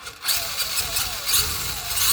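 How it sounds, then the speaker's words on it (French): A remote-controlled Lizarl DB vehicle is switched on, its motor kicking in after a brief quiet moment and then running with a steady, loud, close-up whir that gently rises and falls, with no voices. "Et quand la télécommande est allumée, on peut allumer le véhicule."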